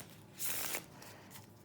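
A deck of Uno cards being shuffled, a short burst of riffling card flutter about a third of a second long, close and fairly quiet, followed by softer card handling.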